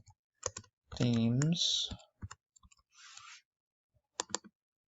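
Scattered clicks of typing on a computer keyboard, a few quick taps at a time, close and fairly quiet, with a voice speaking briefly between them.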